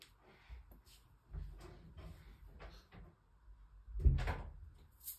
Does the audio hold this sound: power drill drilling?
no